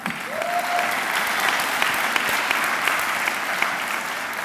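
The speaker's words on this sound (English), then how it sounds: "You have a right to clap." Audience applause fills a hall at a university educational opportunity center commencement ceremony, a steady dense clapping that holds evenly throughout, with a brief whistle or shout rising near the start.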